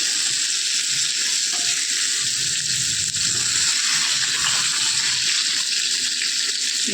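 Fish frying in oil in a kadai pan gives a steady, dense sizzle. The hiss holds loud and close for the whole stretch, with faint stirring and scraping underneath and no voices.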